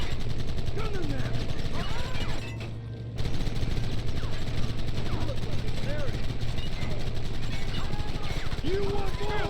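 Western shootout in Red Dead Redemption: steady gunshots crack repeatedly over a constant background rumble, loud and near, with voices shouting between the shots.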